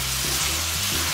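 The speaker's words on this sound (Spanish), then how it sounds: "Entonces ya tengo aquí mi aceite caliente y voy a agregar la carne." Bite-size pieces of pork fry in hot oil, giving a steady, close sizzle that fills the whole short stretch with no voice over it.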